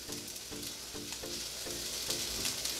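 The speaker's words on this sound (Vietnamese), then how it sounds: "Giờ mình sẽ để cái cá Marock vào cái chảo." Sardines go into a hot pan of sautéed onion and garlic, bringing a steady close sizzle of frying with soft rhythmic scraping and stirring taps underneath, and no talking.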